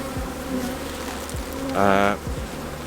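Honeybees buzzing around a hive as they fly back and forth, a steady close hum with one louder bee passing near, under a low background drone.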